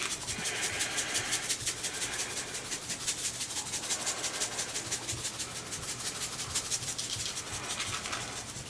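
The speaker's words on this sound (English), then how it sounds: "I will rub that on there, get the nooks and crannies" Hands rub seasoning rub onto a turkey before smoking, a steady, close, rhythmic scratchy rubbing that repeats in quick strokes for several seconds.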